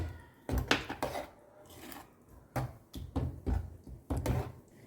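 A spatula stirs mashed pav bhaji vegetables in a pan, giving a series of irregular close knocks and clanks against the metal with quiet pauses between them.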